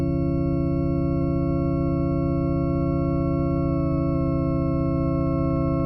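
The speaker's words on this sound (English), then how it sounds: "We are shaping the organ sound." Buchla synthesizer shaped into an organ-like tone: one steady, sustained drone rich in stacked harmonics, loud and unchanging throughout, with no speech.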